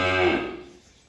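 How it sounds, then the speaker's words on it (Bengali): A ten-month-old Friesian heifer calf on a farm gives a single short, close moo that starts loud and fades away. "এই হলো আজকের ছয় নাম্বার একটা ফ্রিজিয়ান বকনা বাছুর"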